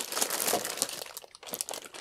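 Plastic bag holding a power supply crinkles and rustles as it is handled, a close, continuous crackling with scattered sharper crunches throughout.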